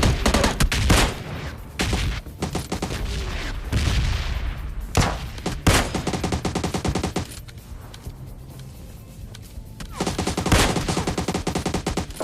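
Rapid automatic gunfire and single heavy shots crack in bursts throughout a PUBG Lite battle royale match, loud and close with brief gaps between volleys and no talk.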